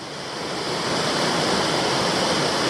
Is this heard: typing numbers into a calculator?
no